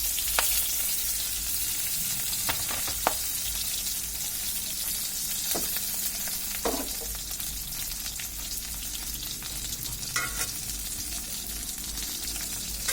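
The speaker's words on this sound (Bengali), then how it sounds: "এটাকে আস্তে আস্তে করে ভেজে নিতে হবে, যেন পাতাটা পুড়ে না যায়" Chapa shutki fritters frying slowly in a pan, a steady continuous sizzle throughout with a few light clicks and scrapes.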